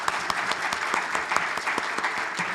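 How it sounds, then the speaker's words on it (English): An audience gives a sustained round of applause at a Texas education cohort gathering, dense steady clapping from a roomful of people with a few sharper claps standing out near the front. "give yourselves a great big round of applause"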